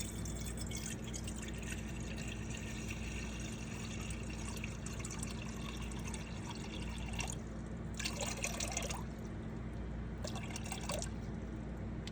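Filtered water pours and trickles steadily into a container for sourdough bread dough, a continuous liquid stream close by with no voices.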